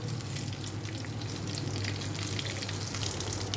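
Mustard seeds crackle and pop in two tablespoons of hot oil for a tempering, a dense, close sizzle with fine spattering that holds steady throughout, no one speaking.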